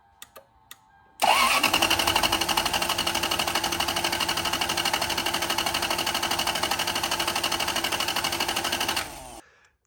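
Lexus engine cranking without firing, fuel pump and spark fuses pulled, a steady rapid starter-motor chug lasting about eight seconds after a few faint clicks, then stopping.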